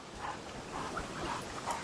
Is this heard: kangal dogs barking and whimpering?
yes